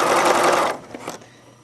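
A sewing machine stitches a ruffle onto a knit skirt in a loud, close burst that stops abruptly, leaving a few faint clicks and quiet room tone.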